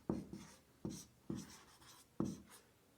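Pen writing out a maths solution on paper, close and clear, with four distinct stroke bursts spaced at a steady pace and no talk.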